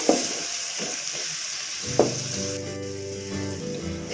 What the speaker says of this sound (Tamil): இது பச்சையாக நம்ம அரைச்சதுனால ஒரு ரெண்டு நிமிஷம் வதங்கட்டும்